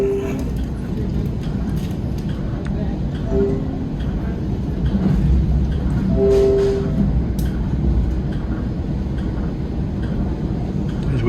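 NJ Transit train pulling out of Egg Harbor City station, a steady low rumble of rolling wheels and motors heard from inside the car, with brief tonal horn notes and a person talking over the noise.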